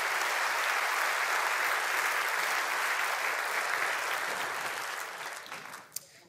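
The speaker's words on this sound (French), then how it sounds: "On applaudit néanmoins" Audience applause at a Belgian film awards ceremony, a dense sustained ovation from a large hall that fades toward the end, finishing with one sharp clap.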